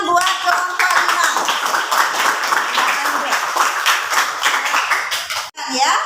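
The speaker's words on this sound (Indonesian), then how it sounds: "tepuk tangan buat kelompok 5" Classroom students clapping for a group during a fraction multiplication lesson, a burst of close, uneven hand claps with some rhythmic patting and a chuckle, cutting off abruptly as a voice resumes at the end.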